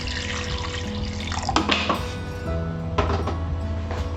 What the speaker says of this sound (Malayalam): കുറച്ച് വെള്ളം ഒഴിച്ച്